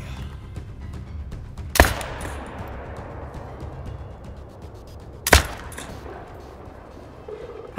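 Two sharp, loud hunting rifle shots crack out about three and a half seconds apart. Each one echoes briefly across open ground during an animal hunt in Africa, with no talking between them.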